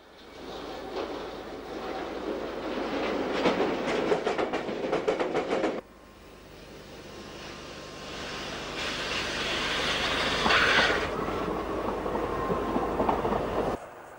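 A Docklands Light Railway train runs through Stratford in wintry conditions, loud rumbling wheels and clattering rail joints with a hissing, rushing passage that dips briefly mid-way and then builds again.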